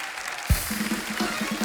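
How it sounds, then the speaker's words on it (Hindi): A studio audience on a Hindi TV comedy talk show claps for arriving guests, a brief burst of dense applause with a low hum underneath. "एक बार जोरदार तालियां हमारे मेहमानों के लिए।"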